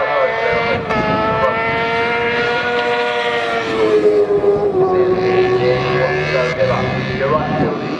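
Yamaha R6 racing motorcycles screaming past at a Snetterton circuit race, several high revving engine notes rising and falling and overlapping, heard at a distance with commentary over them.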